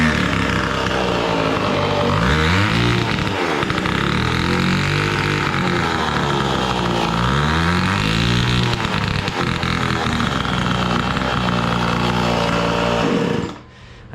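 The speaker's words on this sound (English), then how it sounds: "you give it more than half throttle, it bogs" Small mini bike engine running loud and close, its pitch swelling and sagging repeatedly as it bogs under more than half throttle, sustained throughout before cutting off near the end.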